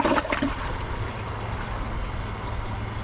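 A 2025 Kohler Highline Arc tall-tank toilet flushes a grocery bag with a sudden gurgling rush of water, then a steady swirling drain noise continues, with no voices.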